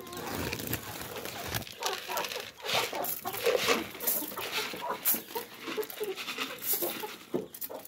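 Backyard hens clucking and chattering close by as they are fed whole maize, with scattered light pecking and patter among the calls.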